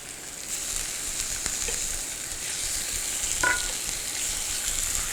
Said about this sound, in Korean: 자, 거기에 이제 고기하고 채소를 구워줄 건데요. 자, 고기를 구워줍니다.